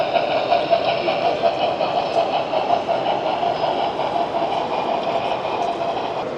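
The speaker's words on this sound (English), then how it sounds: "I'm going to show as the train goes by and goes right through the city streets." A model train runs through miniature city streets on a layout at a New York State model train fair, giving a steady, continuous rumble and whir with a faint rail clatter over busy hall noise.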